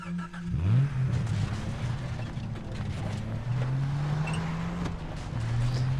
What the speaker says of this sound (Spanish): Un coche.